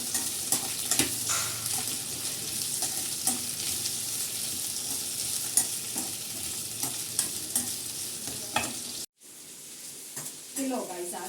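Chunky onions frying in oil in a home kitchen, a loud steady sizzle with repeated stirring scrapes, then a brief silence before a voice starts speaking at the end.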